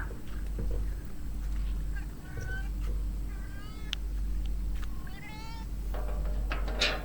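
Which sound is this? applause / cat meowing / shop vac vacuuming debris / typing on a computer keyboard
cat meowing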